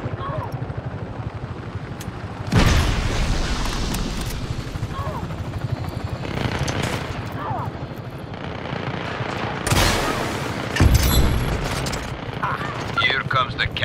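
Rapid gunfire and heavy booming fuel tank explosions from the open-world action game Just Cause 3 crash out in loud bursts, with a steady roar of battle noise between blasts and someone speaking over it.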